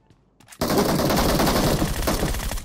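Rapid automatic gunfire from a weapon in the PUBG Mobile battle royale game, a dense, loud burst of shots that starts abruptly after a brief quiet moment and keeps going without a break.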